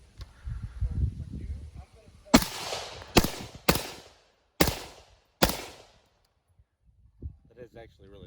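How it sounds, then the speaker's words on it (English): Five loud, sharp rifle shots ring out at irregular intervals from a rifle fitted with a Sprinco red spring and an S.O.B suppressor-optimized buffer. Each crack decays quickly, with quiet gaps between shots and faint talk before and after. "the cameraman is shooting the Sprinco Red Spring with the S.O.B bolt"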